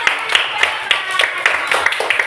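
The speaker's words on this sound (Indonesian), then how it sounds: "Iya benar, tepuk tangan." A school class claps hands in a quick, fairly rhythmic burst, sharp claps repeating steadily in a classroom.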